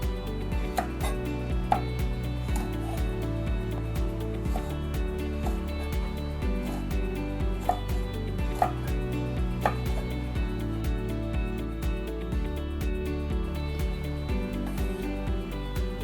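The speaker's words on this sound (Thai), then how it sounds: "พริกจินดาสีแดง ซอยพริกใส่หน่อยค่ะ" A knife slices red chili peppers steadily against a cutting board, with quick repeated slices in an even rhythm and no talking.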